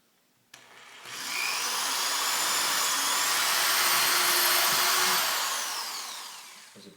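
A power drill fitted with a 3/32 inch bit bores a pilot hole, spinning up sharply and whirring steadily and close for about six seconds before winding down.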